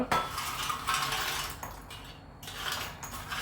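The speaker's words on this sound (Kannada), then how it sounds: "ಎಷ್ಟು ಕ್ರಿಸ್ಪಿಯಾಗಿ ಸೌಂಡ್ ಬರ್ತಾ ಉಂಟಲ್ಲ" Crispy air-fried masala cashew nuts rattle and clatter in a dish in several bursts of dry, close tumbling clicks, alone without talk.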